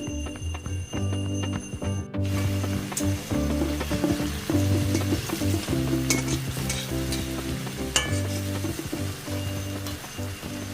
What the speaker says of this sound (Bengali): এবার এটা ভাজবো, ভেজে আলু টালু দিয়ে গ্রেভি করে রান্না করবো